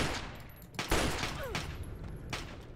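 Several gunshots from Fallout 3, with a couple of loud broadband cracks over a steady low game rumble. The shots are spaced irregularly and there is no talking.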